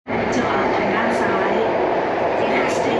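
A Bangkok subway train rumbles and roars steadily as it arrives inside an underground station, loud and close, a constant mechanical drone.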